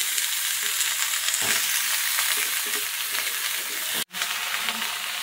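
Vegetables hit hot oil in a kadai with a loud, dense, close-up sizzle that holds steady, broken by a brief sharp knock and a moment of near silence before the frying resumes.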